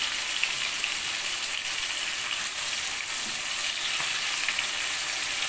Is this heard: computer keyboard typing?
no